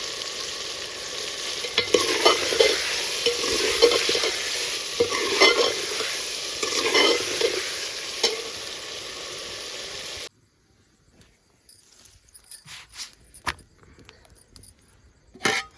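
Chicken, spices, peas and potatoes sizzle and fry in a pot with a spoon stirring and scraping, loud and close for about ten seconds, then the frying drops away to quiet with a few scattered clatters.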